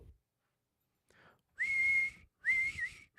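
A person whistles two sustained, fairly loud tones in a row, each lasting under a second with a short gap between, after a faint brief sound; no talking.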